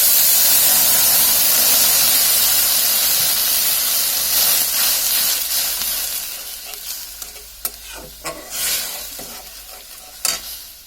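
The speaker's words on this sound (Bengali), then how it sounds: "এখন আমাদের যে ব্রকলি পানিটুকু আছে সেটার মধ্যে দিয়ে দিচ্ছি" Broccoli water poured into a pan of fried chopped ginger and garlic gives a loud, steady sizzle and hiss that gradually dies down, followed by a few sharp utensil clicks near the end.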